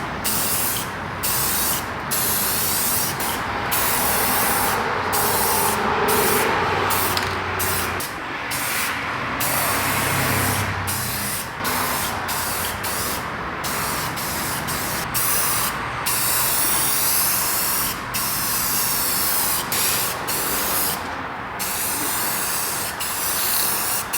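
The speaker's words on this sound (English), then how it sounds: "We are gonna lay down the final coat of clear." Spray gun laying down the final clear coat on a Ford F250, a steady close hiss of atomized spray running almost continuously with brief breaks between passes.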